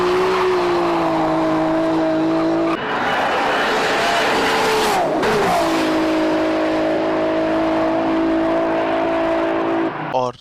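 A gold-plated Toyota Supra MK4 with an RB26 engine roars at sustained high speed during a 317 km/h run, a loud, steady engine drone with one brief dip and recovery midway, ending abruptly.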